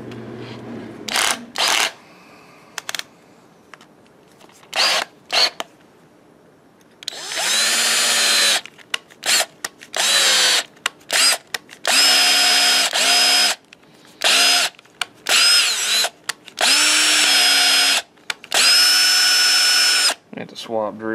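A power drill taps threads in an old bulldozer, running in repeated bursts of high whining motor noise, loud and close, separated by brief pauses and short clicks.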